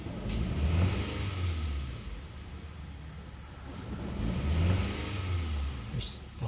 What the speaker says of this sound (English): Give it a little bit of quick throttle, full throttle.